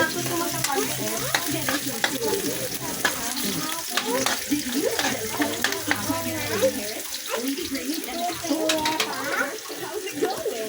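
Onions sizzle steadily in a pan for pork caldereta, a continuous crackling fry with stirring clatter, while a voice talks intermittently over it.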